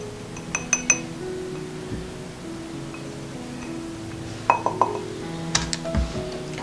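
Glass clinks sharply a few times near the start and again toward the end while desiccated coconut is added from a glass cup for sugar-free diabetic biscuits, over a low steady background hum.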